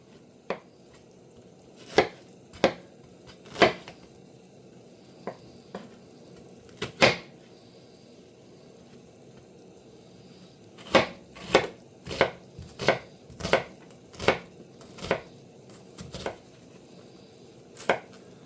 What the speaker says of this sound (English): We're going to chop up our onion.